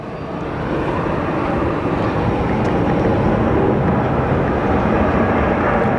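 A United airliner taxiing past at Phoenix Sky Harbor Airport, a loud broadband jet roar that swells in during the first second and then holds steady and close, with no voices.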